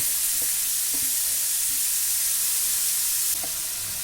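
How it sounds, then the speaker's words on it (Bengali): Grated snake gourd frying with onions in a pan, stirred now and then: a steady close sizzle throughout, with a few soft scraping stirs. "পেঁয়াজের সাথে চিচিঙ্গাটা দিয়ে দিলাম দিয়ে ভালো করে নাড়াচাড়া করে জল জল যে ভাবটা থাকে সেটা একটু নাড়াচাড়া করে শুকনো করে নিচ্ছি"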